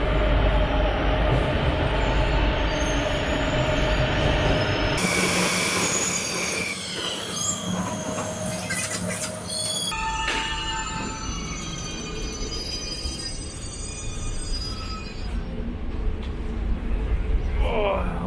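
A Shanghai subway train rumbles along the track with loud, sustained roar, its wheels squealing in high drawn-out screeches through the middle and later stretch, heard from inside the carriage.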